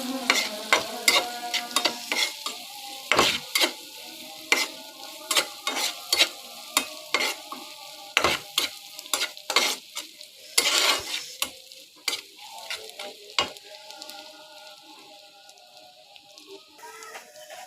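Onion with turmeric fries in a pan with a soft sizzle, while a spatula scrapes and knocks against the pan in a steady series of sharp strokes, close and fairly loud, then the stirring eases off toward the end.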